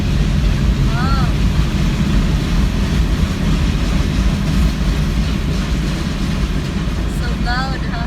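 A huge Union Pacific freight train in Utah rumbles past loudly and steadily close by, a dense low roar throughout with a couple of brief high whistle-like squeals riding over it.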